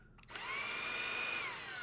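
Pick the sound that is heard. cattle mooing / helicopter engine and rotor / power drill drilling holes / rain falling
power drill drilling holes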